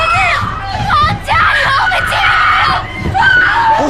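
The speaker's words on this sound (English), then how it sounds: "Mama's locked in the basement screaming." Girls scream in terror in a scene from the horror film The Conjuring, loud overlapping shrieks and yells in a near continuous burst with brief breaks.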